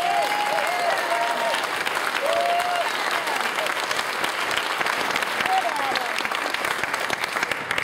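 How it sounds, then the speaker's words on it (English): An audience claps and cheers together at a political keynote event. The applause is loud and continuous for the whole stretch, with scattered whoops and shouted voices rising over it. "Let's give Adam a round of applause."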